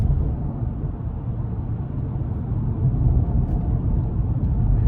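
Engine of a 2007 Mercedes-Benz E550 with a 5.5 V8 heard from inside the cabin, a steady low rumble that swells slightly as it pulls through gear changes, without talking.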